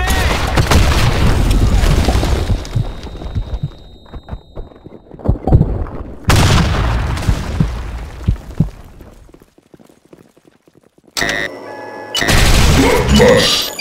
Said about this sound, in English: Fire in the hole! Fire in the hole! Fire in the hole! Fire in the hole! Grenade! Grenade!